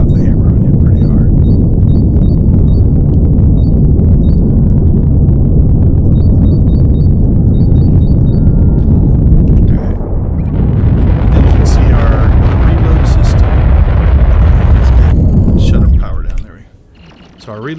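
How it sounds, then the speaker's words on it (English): Ship cannons fire in a space combat game, heard as a dense, continuous low rumble of repeated booms and mechanical thumps with sharper bursts in the later part before cutting out at the end. "So there you can see our cannons firing now."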